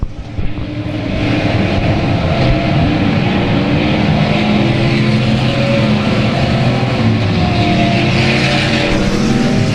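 Race car engines roaring continuously at South Texas Speedway during a race, a loud, dense, sustained drone of several cars filling the whole stretch without pause.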